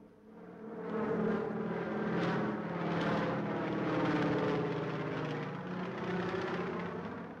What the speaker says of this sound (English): they were able to demonstrate to the eminent African visitors take-off and perfect low-flying